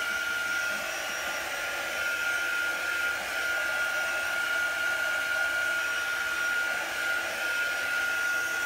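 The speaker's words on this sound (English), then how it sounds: "And you can use a hair dryer or a heat tool, whichever you like." A hair dryer blows steadily on chalk paste to dry it, making a constant loud whirring hiss with a high whine and no break, with no voices.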